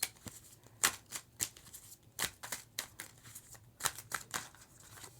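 Tarot cards being shuffled and drawn from a deck, a series of crisp riffling snaps and soft slides close by, arriving in irregular bursts with short pauses between.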